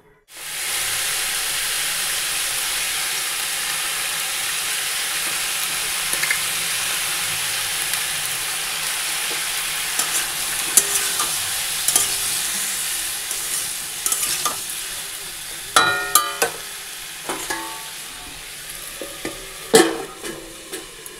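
Dry red chili, bay leaf and panch phoron spluttering in hot oil for a tomato chutney, a steady loud sizzle throughout with sharper crackles and pops growing more frequent toward the end, no voices.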